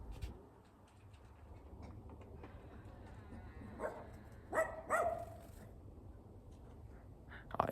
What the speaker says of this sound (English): The neighbor's dog just ran out.